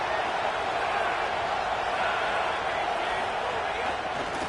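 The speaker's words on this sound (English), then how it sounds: "This crowd trying to make life miserable for this offense" Steady stadium crowd roar from a college football video game, FCS against Utah, a continuous broad wash of voices holding at an even level for the whole stretch with no single voice standing out.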